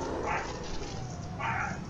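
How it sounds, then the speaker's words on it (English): A pet dog barks somewhere in a home while a game plays on a loud TV, two short yips rising over the steady background of game sound and room noise. "My dog is barking."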